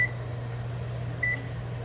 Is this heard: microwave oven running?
yes